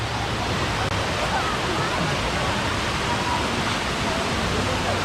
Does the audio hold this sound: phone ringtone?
no